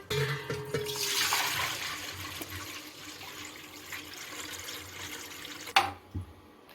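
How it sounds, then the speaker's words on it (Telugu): Water is poured steadily into a pan or bowl while gulab jamun is being made, a close rushing splash that gradually softens, followed by a sharp clunk near the end. "ఇప్పుడు మనం వాటర్ వేసేసుకుందాం."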